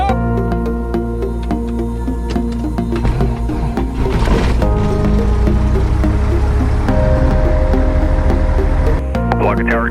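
A Cessna 172's piston engine cranks and catches, settling into a loud, steady propeller drone that swells about midway, with some indistinct talk in the cabin.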